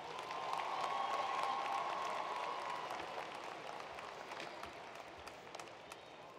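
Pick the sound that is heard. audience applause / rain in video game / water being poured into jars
audience applause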